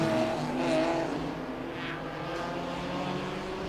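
Toyo Tire racing cars pulling away at the start of a race at Bira Circuit in Pattaya, a blended roar of engines at middle distance, steady and loud with slight swells, no talk.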